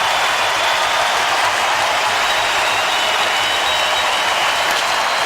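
A hockey arena crowd roars on its feet at the end of a game, the Sharks finishing off the Rangers at SAP Center in San Jose; a dense, steady wall of cheering and applause fills the whole stretch without letup.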